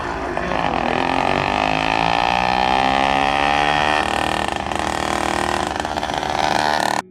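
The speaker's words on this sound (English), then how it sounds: "here's a clip of our engine after tuning it properly. Pay attention to the sound the engine makes" A tuned single-cylinder motorized bicycle engine, set up for low and high-end torque and producing over 3 horsepower, runs steadily and loudly up close, its revs climbing slowly then holding before cutting off at the end.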